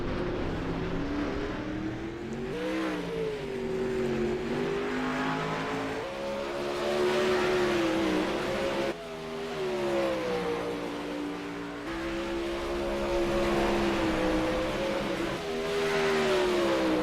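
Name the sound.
race cars rolling out onto the track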